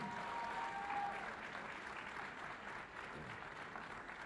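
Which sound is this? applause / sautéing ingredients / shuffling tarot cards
applause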